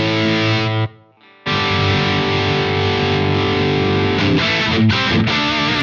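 Heavily distorted electric guitar through a Marshall MG100HCFX solid-state amp with plenty of gain plays sustained chords, breaks off briefly, then rings on, with a few choppy changes near the end.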